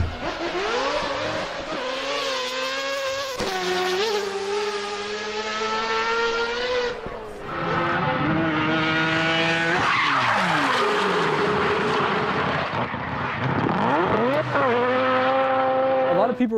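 A high-pitched, race-tuned Toyota Supra engine revs hard and wails through rising and falling gear changes, with tire squeal and a voice talking over the roar.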